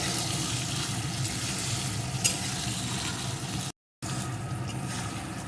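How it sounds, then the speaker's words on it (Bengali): Prawns frying lightly in oil in a pan, a steady close sizzle and crackle with faint stirring, continuous with one brief gap. "চিংড়ি মাছগুলো একটু ভেজে নিয়েছি"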